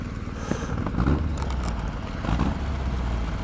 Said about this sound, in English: on the overrun, it's proper popping and banging